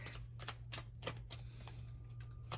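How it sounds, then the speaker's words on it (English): Rapid crisp clicks and rustles of tarot cards being shuffled, close by, in uneven bursts over a low background hum. "Let me go ahead and shuffle up these cards really quick."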